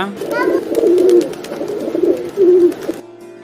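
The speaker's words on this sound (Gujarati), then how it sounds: "કબૂતર પીજન એટલે કબૂતર કબૂતર કેવી રીતે અવાજ કરે" A pigeon's soft, throaty cooing repeats in low rolling phrases, close and clear, after a brief spoken word at the start.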